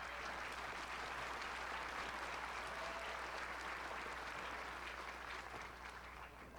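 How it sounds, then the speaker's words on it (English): A graduation ceremony audience applauds steadily in a large hall, a dense wash of clapping that holds at moderate distance and tapers slightly toward the end. "give her a round of applause"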